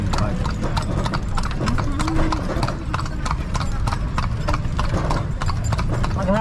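Horse hooves clip-clop in a quick, steady rhythm on pavement at Luneta Park in Manila, close and clear. Voices talk over the hoofbeats.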